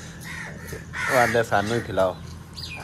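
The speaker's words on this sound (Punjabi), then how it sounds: "ਕਾਂ ਹੀ ਕਾਂ ਆ ਕੇ ਇਕੱਠੇ ਹੋ ਕੇ ਉਹ ਵੀ ਪਰਾਂ ਕਿੰਨੇ ਚਲੇ ਗਏ" Crows caw amid a talking voice, with harsh calls mixed under the speech through the middle of the clip.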